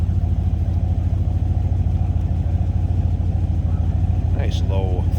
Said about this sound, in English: Nice low throaty rumble coming out of that 350.